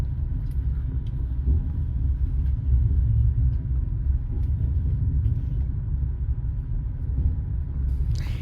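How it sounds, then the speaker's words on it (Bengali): Heard from inside the carriage, a train on the Arctic winter run from Murmansk to Saint Petersburg rumbles low and steadily as it leaves a station during a snowstorm, with a few faint clicks and knocks. "ট্রেন ছেড়ে দিল স্টেশন থেকে এবং বাইরে শুরু হয়ে গেল প্রবল তুষারঝড়।"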